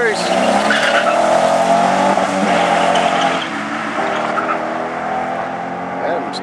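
Drag-strip tires on a car racing a Nissan 350Z against a Chevrolet Corvette spin and squeal at launch, a loud sustained screech over engine roar that eases slightly after a few seconds, with voices talking over it.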